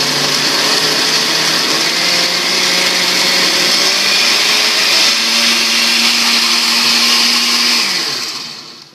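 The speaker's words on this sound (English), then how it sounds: "I start the blender on its lowest setting to get it going." A blender runs continuously on hot sauce peppers, a loud motor whir that steps up in pitch as the speed is raised, then winds down at the end.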